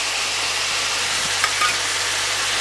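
Ginger sizzles in a hot pan with onions for a garlic chilli chicken, giving a loud, steady frying hiss with a faint stir or two partway through.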